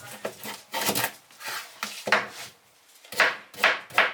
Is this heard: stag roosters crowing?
no